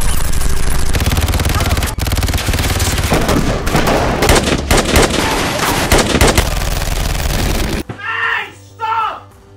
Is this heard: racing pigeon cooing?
no